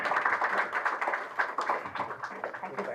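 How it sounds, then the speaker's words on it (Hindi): Audience applause at a scholarship award ceremony for top-ranked female BTech students, a soft, steady patter of many hands clapping at an even, moderate pace, heard from some distance. "और आप सबकी तालियां भी सम्मान करें प्लीज"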